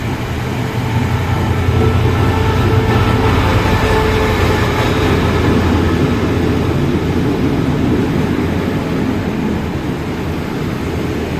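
Express train at Chumphon railway station in Thailand, hauled by a QSY locomotive, a loud continuous low rumble of rolling cars and heavy engine that holds steady for the whole stretch.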